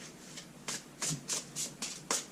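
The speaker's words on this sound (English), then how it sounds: "So while I shuffle, you can ask." Tarot cards being shuffled nearby in a rhythmic series of soft riffling bursts, about six in quick succession.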